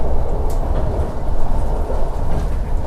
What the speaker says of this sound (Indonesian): untuk rangkaian kereta api Argo Merbabu Tambahan ini berisik banget, gemlodak banget